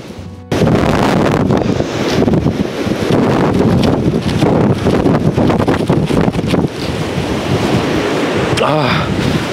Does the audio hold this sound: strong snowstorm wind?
yes